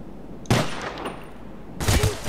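Gunfire in the game Call of Duty Black Ops, two loud close bursts of rapid shots about a second and a half apart.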